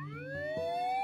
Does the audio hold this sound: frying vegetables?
no